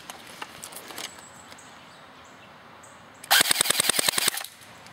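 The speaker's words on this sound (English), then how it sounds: "Now let's go full auto. Let's get a rate of fire test." A Cybergun WW2 M1A1 Thompson airsoft electric gun firing a full-auto burst, a loud rapid string of about a dozen sharp cracks close up, preceded by a few faint clicks and quiet handling noise.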